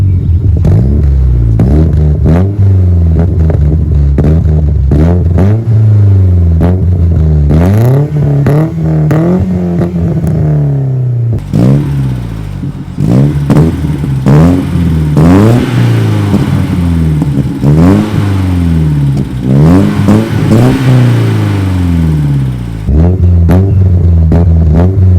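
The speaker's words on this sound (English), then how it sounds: "I want you guys to hear the car when it revs up" A car fitted with a newly completed custom exhaust system revs repeatedly while parked, loud and close, with throttle blips rising and falling in rhythm and a rougher stretch of revving in the middle, no talking.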